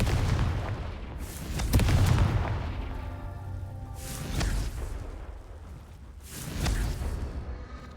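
Confringo fire spell cast repeatedly in the Hogwarts Legacy video game, three booming blasts with whooshing bursts spaced a couple of seconds apart over a rumbling game background.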